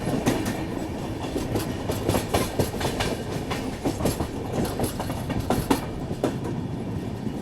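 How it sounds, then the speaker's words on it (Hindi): The Dhauli Express on the Howrah–Puri route pulls into Jajpur station. Steady, loud rumble with continuous clickety-clack of wheels over rail joints, heard close from on board. "फिलहाल अपनी ट्रेन जहाजपुर पहुँचने वाली है, तो अराइवल जो है वो देख लेते हैं।"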